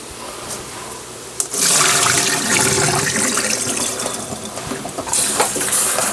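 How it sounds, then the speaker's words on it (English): Water from a kitchen tap gushing loudly and continuously as soaked butter beans are drained and rinsed, starting abruptly after a brief click and splashing steadily for several seconds. "I'm going to drain them, wash them off."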